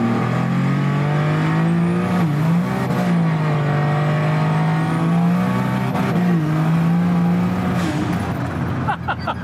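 Ford Falcon with a Barra engine accelerates hard in second gear, its loud sustained engine drone rising and dipping in pitch through the clip, with people talking faintly inside the car.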